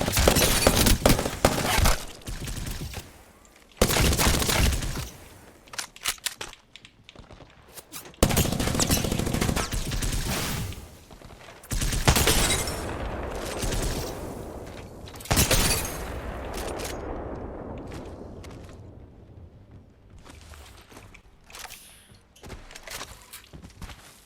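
Gunfire in a third-person shooter video game comes as loud, sharp bursts and rapid automatic volleys with impacts and shattering, spread through the clip and fading in the quieter final stretch.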